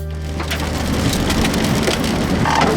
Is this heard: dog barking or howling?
no